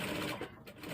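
Sewing machine stitching pockets onto a shirt dress, a steady close whirring hum that briefly eases in the middle of one continuous second.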